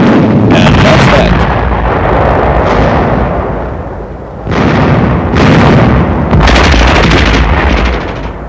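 Incendiary explosions destroy an enemy supply shack in deep snow, heavy booming blasts in several loud waves with a lull around the middle, on a 1950 military training film soundtrack.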